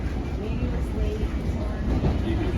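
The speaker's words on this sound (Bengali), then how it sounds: "ট্রেন আসছে" A train from Long Beach arrives in Jackson Heights, New York, rumbling nearby with a steady low mechanical roar and rattling that grows slightly louder toward the end.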